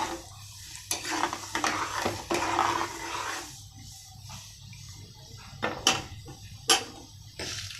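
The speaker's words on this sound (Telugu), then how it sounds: "శనగపప్పు వేసుకోవాలి. కొద్దిసేపు ఫ్రై చేసుకోవాలి." Chana dal frying in a pan with cumin seeds: a steady soft sizzle and crackle, with a few sharp scrapes and taps of a spoon against the pan, fairly faint and close.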